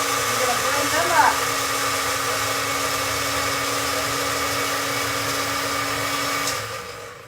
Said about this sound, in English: You're going to blend them up.